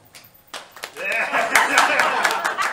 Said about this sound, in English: I can't hear after that deafening applause.